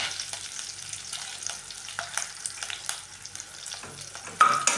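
Curry leaves, broken green chillies and spices fry in hot oil, a light crackling sizzle with scattered pops and stirring scrapes, close up and quiet, ending with a sharper clatter.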